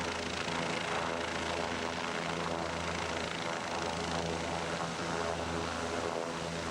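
A helicopter flies over the remote Kimberley coast of Western Australia, its engine and rotor making a steady, continuous drone at moderate distance with no other sounds breaking through.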